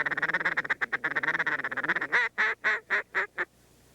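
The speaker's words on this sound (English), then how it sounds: "Now this call here has a nice little low raspy quack" A duck call blown in a low, raspy quack run: a fast chattering feed call of many short notes, then five or six longer, separate quacks, close and loud with no other sound.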